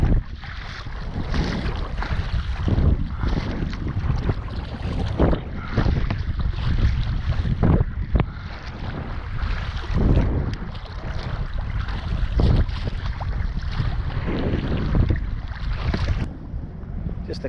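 A kayak moves across Boston Harbor, paddle strokes splashing and water sloshing in a loose rhythm under steady wind buffeting the microphone, close and fairly loud, with no speech.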